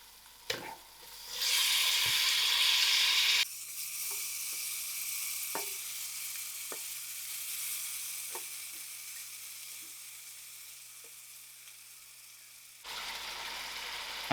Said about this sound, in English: I'm going to add in my lamb